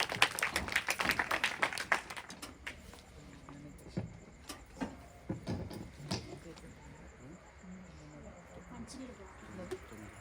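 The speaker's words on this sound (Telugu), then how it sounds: "మన మధ్యలో అందరూ చప్పట్లు కొడుతూ ఆహ్వానిద్దాం" An audience claps to welcome a pastor at a church Christmas gathering, a burst of scattered, fairly close hand claps that is strongest at the start, then thins out beneath ongoing talk.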